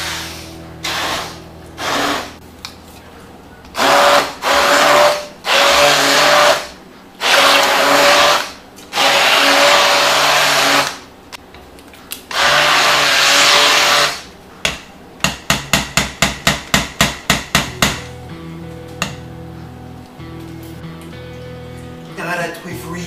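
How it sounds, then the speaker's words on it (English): A hand blender purées a cretons mixture of meat, running in loud, repeated bursts of several seconds each, then a fast series of short pulses, with speech in between. "we're gonna have to use a hand blender. We're gonna use it in our mix, like that it's gonna be smoother"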